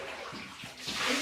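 Water pours slowly over a child's head during a bath, a soft splashing trickle that thickens into a steady close gush toward the end.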